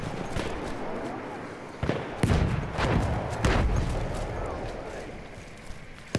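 Explosions and gunfire in the World War I shooter video game Battlefield 1 crack and thump in several sharp bursts over a rumbling battlefield background, and someone talks over them.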